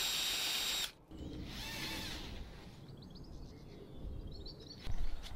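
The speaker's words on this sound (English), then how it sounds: "and then drill that in the tenon." A power drill with a spade bit bores a peg hole into an oak tenon for a timber frame, whirring loudly for about a second before cutting out, with faint birdsong chirping in the background afterward.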